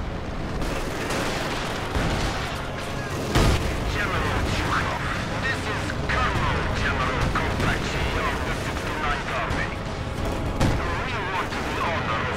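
Artillery and gunfire in the World War II strategy game Company of Heroes 2: repeated heavy booms and scattered shots over a dense, steady battlefield rumble, with someone talking over the din.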